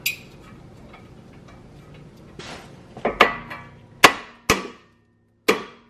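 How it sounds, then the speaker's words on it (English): Several sharp metallic hammer strikes on the front suspension of a BMW E34 540 ring out, irregularly spaced, loud and close, with softer clinks and knocks before them. "it looks like it's time to hammer it"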